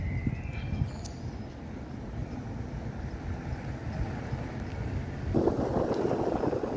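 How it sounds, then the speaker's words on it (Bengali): Strong cold wind gusts along the River Thames near Canary Wharf in London, a low buffeting rush on the microphone that swells louder toward the end. "হঠাৎ করে বাতাসের মাত্রাটা একটু বেড়ে গেল, ভীষণ ঠান্ডা বাতাস"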